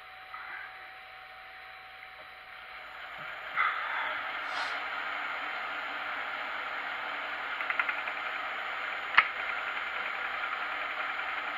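A gear cutting machine runs steadily at about 600 revolutions a minute while taking a heavy cut. It gives a constant close mechanical whir and hiss, with a few faint ticks and one sharp click near the end.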